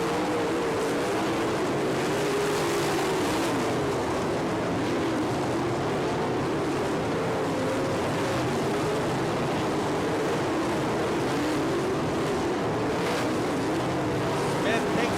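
Sprint cars race on a dirt track at Haubstadt, Indiana, in an All Stars vs NCRA event. A continuous roar of engines rises and falls as the cars circle, while a commentator talks over it the whole time.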